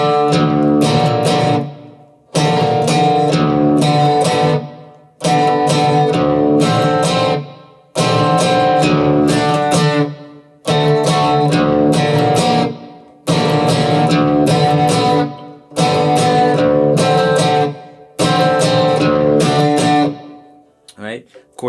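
A guitar plays a riff, repeating the same short phrase about eight times with brief pauses between each pass, loud and close with no other sound.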